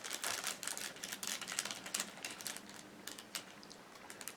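Packaging for an FFP2 mask is opened with a rapid series of close, quiet crinkling and tearing clicks.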